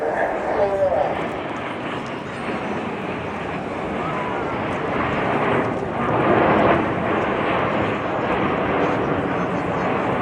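Typhoon fighter jet passing over the Sidmouth Regatta air display, a broad, steady roar with a swell around the middle, mixed with commentary over loudspeakers and wind noise.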